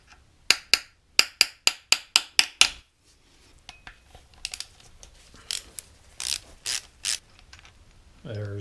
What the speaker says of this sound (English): Unbolt that thrust plate